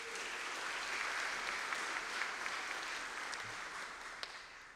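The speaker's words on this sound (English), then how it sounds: "Let's give them a round of applause, please." Steady applause from an audience at an evening history festival event fills the room, a dense wash of many hands clapping that holds for several seconds before easing slightly.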